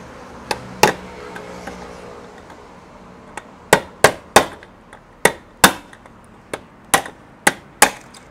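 Sharp hammer taps strike a hard surface, a couple of isolated hits followed by a steady run of evenly spaced, loud blows close by.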